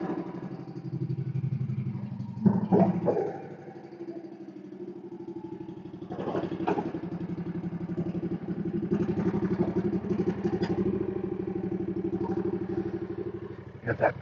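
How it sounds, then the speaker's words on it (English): A bigger lawn mower runs steadily at mid pitch with a constant engine drone, partly masked by people talking over it and a few clattering bumps. "It's going to be a little bit noisier, of course, with the bigger mower."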